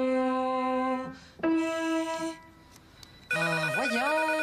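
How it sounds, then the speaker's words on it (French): An indoor telephone rings in short electronic warbling bursts with brief gaps between them, in a scene from a French-language TV series. "puis le téléphone qui arrête pas de sonner"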